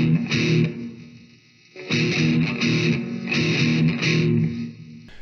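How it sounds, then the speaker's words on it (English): Distorted electric guitar plays a palm-muted riff, chugging muted chords in two loud bursts separated by a brief quieter gap, close and without speech. "So the one difference here is we're gonna be palm muting this part."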